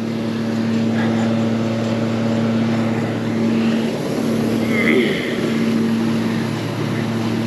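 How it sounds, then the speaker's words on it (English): A grinder processes high-moisture corn outdoors on a farm, giving a continuous droning machine hum with a steady tonal whine that swells and eases slightly over several seconds. "That's grinding it up fine enough."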